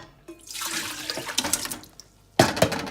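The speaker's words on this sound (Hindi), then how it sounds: "और उसमें 2-3 गिलास पानी डाल के" Water pours into a pan of overnight-soaked tamarind for a sweet chutney, a splashing, gushing stream that starts and stops, then surges again loudly near the end, with no talking.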